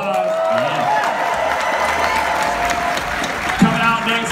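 Audience applause at New York Comic Con 2016 as cosplay championship judges enter, a steady dense wash of clapping and crowd noise throughout, with a host's voice over it.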